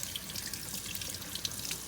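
Running water rinses a refurbished Dovo Barbarosa straight razor and a synthetic sharpening stone, a brief steady splashing trickle close by with no speech.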